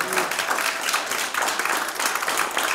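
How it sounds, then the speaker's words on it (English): Congregation in a church clapping hands together, a dense steady wash of applause that carries on throughout at fairly close range, with voices faintly mixed in. "Give him a hand clap."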